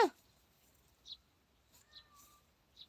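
A cat meows softly a few times in a quiet room, short separate cries spaced apart with silence between them.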